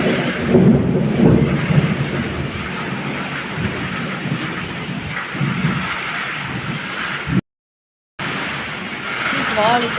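Heavy rain pours steadily during a windy thunderstorm, a dense, loud rushing wash with low rumbling swells in the first seconds and a brief cut to silence near the end.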